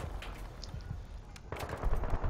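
Pistol shots fired in the video game Battlefield 3, a handful of sharp reports amid busy game noise and scattered gunfire, louder bursts toward the end.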